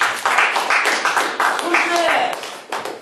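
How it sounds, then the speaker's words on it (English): A small classroom group claps in uneven bursts, close and sparse rather than a full wash, with talking mixed in among the claps. "give him a round of applause"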